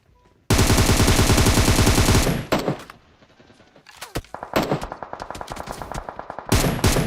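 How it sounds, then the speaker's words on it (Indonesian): Gunfire in the PUBG Mobile shooter game: a long, loud automatic burst, a pause with scattered single shots, then more rapid bursts of fire, with no talk over it. "kok masih nembak kita?"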